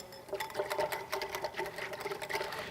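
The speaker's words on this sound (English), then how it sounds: "So I'm going to give this a whisk, like so." A whisk beats creamy salad dressing in a bowl, a quick, even run of light rhythmic clicks and scrapes close up with no voices.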